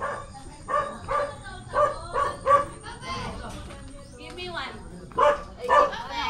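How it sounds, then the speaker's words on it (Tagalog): A dog barks repeatedly in short yapping bursts, close and clear, in a rhythmic run of barks that pauses and then resumes, with people talking in the background between them. "Ay kasama yung aso oh. Ayan yung cute naming aso kasi kasama namin to eh."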